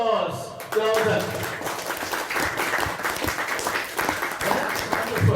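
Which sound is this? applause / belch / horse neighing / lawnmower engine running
applause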